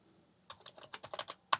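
Keys clack on a Commodore 64 keyboard, a short irregular run of about a dozen crisp presses, close and fairly quiet, with no speech.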